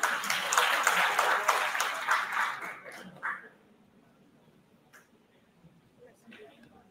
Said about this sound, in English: Another warm round of applause for our students.